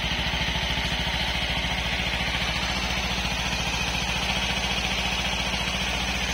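A 2017 Kawasaki Versys ABS motorcycle with about 13,000 km on it idles smoothly, its engine giving a steady, even low throb up close with no voices over it.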